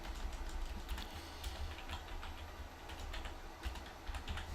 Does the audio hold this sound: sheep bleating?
no